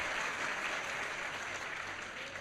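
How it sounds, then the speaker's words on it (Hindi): A seated audience at a spiritual class in Vadodara claps together, a dense, steady burst of applause that stays loud and even for a couple of seconds before easing slightly. "तो ताली तो बजाओ अपने लिए।"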